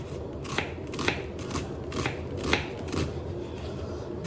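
An onion being cut for cooking, with a run of crisp knife strokes landing roughly every half second, close and fairly quiet against a soft background hiss.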